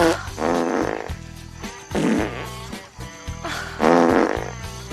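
Over-the-top fart sounds from a novelty fart machine, three long drawn-out blasts with wobbling, buzzing tones, loud and close with short pauses between them and no talking.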